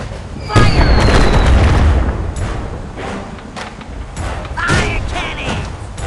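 Cannons fire in the pirate battle game Clarence: Thirty Days & Seven Seas, fighting a kraken: loud booming blasts and bursts that overlap in dense, chaotic volleys, with sharp cracks and rumbling impacts throughout.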